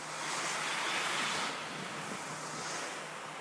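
A soft-wash rig sprays soap and water at low pressure onto the side of a house, making a steady, broad hiss that swells slightly and then settles, with no voices.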